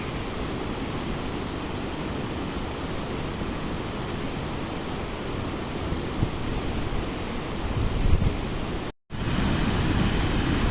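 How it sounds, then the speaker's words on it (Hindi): A Himalayan river-like waterfall at Vasudhara roars in a dense, steady rush of broadband water noise, loud and continuous, broken only by a brief cut near the end before the torrent resumes. "इस नदी रूपी झरने का आनंद लीजिए"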